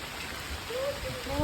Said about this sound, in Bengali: বৃষ্টি হচ্ছে যা আকাশ বন্ধুরা দারুণ জোরে জল আসছে